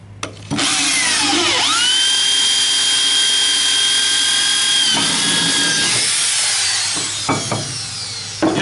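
An ARTU multi-purpose drill bit bores into hard material with a loud, sustained whine that starts abruptly, holds steady, then dips and sputters near the end before a few short bursts.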